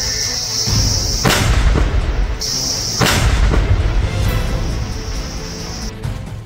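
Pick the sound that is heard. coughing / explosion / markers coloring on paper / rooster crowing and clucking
explosion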